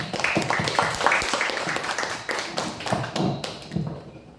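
Students in a school hall applaud a ninth-grade student council candidate at an SMP IT Purnama campaign debate, a dense patter of many clapping hands rising and tapering over several seconds, with brief speech faintly underneath.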